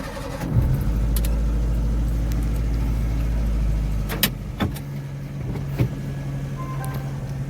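Car started and driven through heavy rain, a steady low engine rumble that cuts out briefly before rising again with a few sharp knocks, all under a constant hiss of rain and road noise.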